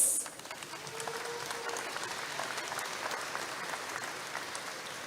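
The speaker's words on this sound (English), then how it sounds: "Let's give a round of applause for all the candidates." Audience applause for candidates at a Navajo Nation presidential forum hosted by a student senate, a steady wash of clapping from a seated crowd that holds evenly throughout, moderately loud with no talk over it.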